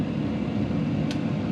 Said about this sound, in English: That's the noise of my exhaust.